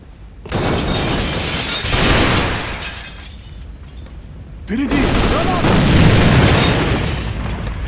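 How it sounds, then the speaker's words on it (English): Glass shatters in Alliance of Valiant Arms during a competitive match, sharp bursts of breaking and gunfire-like impacts in two loud waves, with a commentator talking over the action. "Glass being broken, smoke going down as well"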